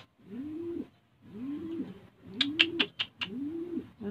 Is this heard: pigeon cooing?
yes